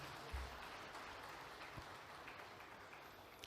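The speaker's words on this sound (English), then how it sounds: "Let's give you the award of a round of applause now" Audience clapping for sponsors at a conference session, a steady even wash of applause held at moderate level throughout, somewhat distant.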